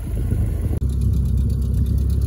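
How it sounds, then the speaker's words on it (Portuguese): A Volkswagen Kombi van's engine rumbles steadily at close range under acceleration, with a brief sharp dropout partway through, then continues with a louder, rougher mid-pitched drone carrying its strange noise. "vamos tentar resolver que barulho que é esse da Kombi"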